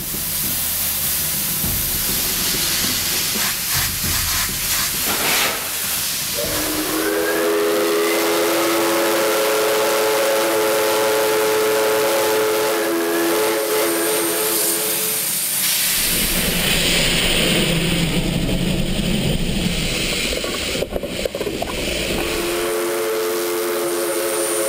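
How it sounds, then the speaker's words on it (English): A steam locomotive on the Ecuadorian railway toward Durán hisses and chugs loudly while its steam whistle sounds in long sustained blasts, repeated later over heavy steam noise. "The steam locomotive will lead this final part of the train adventure to the last station of Durán."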